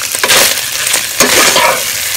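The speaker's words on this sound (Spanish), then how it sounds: "ya que está, lo voy a revolver un poquito." Chili beans with sausage, tomato and onion sizzle loudly in a pan while being stirred, a close, constant hiss and crackle with a few scraping swells of the spoon, no voices.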